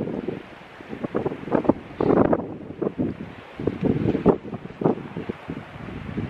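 Gusty wind on the rugged Atlantic coast of the Ring of Kerry, Ireland, buffets and roars in uneven bursts, rising and falling continuously with no voices.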